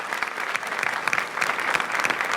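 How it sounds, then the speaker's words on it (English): A warm round of clapping from an audience at an event on stopping global warming, steady and dense with individual sharp claps standing out, continuing evenly for the whole stretch with no talk over it. "Please welcome with a warm applause"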